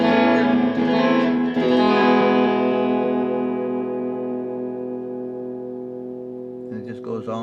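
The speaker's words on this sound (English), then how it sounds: "So let's go to the next patch up that has my little reverb and delay set at level 2" Electric guitar with a satin-finished neck played through a patch with reverb and delay at level 2, strummed chords ringing out and decaying in a long, echoing tail, then a few soft notes at the end.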